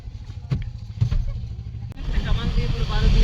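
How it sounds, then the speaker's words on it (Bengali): A car drives along a road with a low, steady engine and road rumble. A few knocks come early on, then the hiss of tires and wind swells louder and rougher toward the end. "আমাদের গাড়ি ছুটছে"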